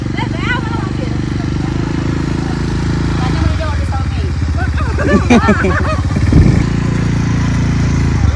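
An ATV quad bike engine runs throughout while riding, a loud, steady motor drone that rises a little midway, with excited voices talking and calling out over it.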